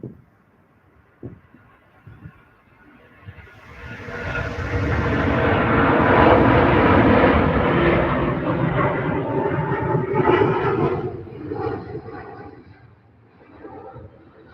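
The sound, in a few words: Qatar Airways airplane at Manchester Airport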